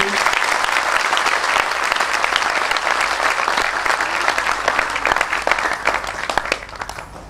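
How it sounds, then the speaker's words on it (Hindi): Loud, sustained welcoming applause from a devotional gathering at a Ram Katha, dense clapping from a large crowd that holds strong throughout and eases slightly near the end. "अब जोरदार स्वागत होना चाहिए, जोरदार अपनी तालियों से।"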